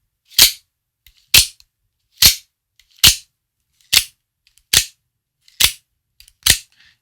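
Eight sharp, loud mechanical snaps as a Benchmade 3300 OTF knife blade with D2 steel fires open, in a steady rhythm roughly once per second, close and crisp with near silence between each.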